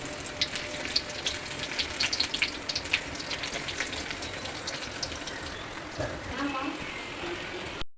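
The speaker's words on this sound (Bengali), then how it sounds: "তেল গরম হয়েছে, পরিমাণ মতো পেঁয়াজ কুচি দিচ্ছি" Chopped onion sizzling in hot mustard oil in a pan, a steady soft crackle and hiss with scattered pops, fairly faint and close.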